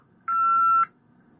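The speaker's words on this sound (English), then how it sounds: "a long beep will inform you the system has been disarmed to Level 1 off." A long, steady electronic beep from a Concord Express home alarm system as it disarms, a single tone lasting about half a second, clear and alone in a quiet room.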